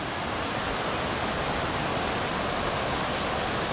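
Jaja waterfall in Morretes roars with a steady, dense rush of falling water, loud and close, unbroken throughout with no voices.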